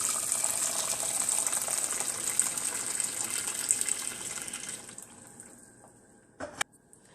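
Hot water gushes steadily into a pot holding chicken for boiling, a loud splashing pour that thins out and stops, followed by a brief clunk.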